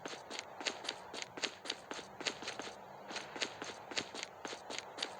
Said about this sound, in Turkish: Abi ayak sesi var.